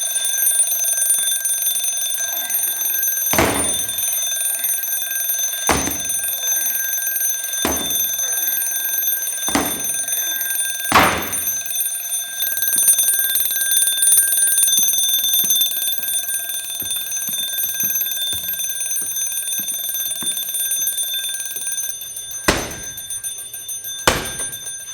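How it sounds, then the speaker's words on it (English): The low-air vibration alert on a firefighter's breathing apparatus rings steadily as a continuous shrill tone, with sharp breathing clicks and valve pulses recurring every couple of seconds over a constant hiss. "when your Viber alert goes off and you know you got 10-15 seconds to find your way out"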